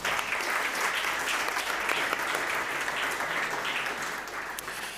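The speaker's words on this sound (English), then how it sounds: "Please, a round of applause." Sustained audience applause at a European medical awards ceremony in an indoor hall, a steady wash of many hands clapping at even volume for several seconds, somewhat distant and soft.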